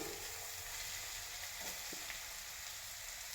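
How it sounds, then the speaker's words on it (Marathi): Chopped onion fries in oil in a pan for a village-style thorny brinjal bharit. It makes a steady, close, dense sizzle throughout with no talking. "अजून आता वरून थोडं तेल घातलेलं आहे कांदा चांगला भाजून असतो"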